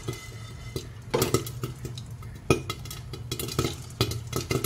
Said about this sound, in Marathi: कढई अशी मधनं हलवायची,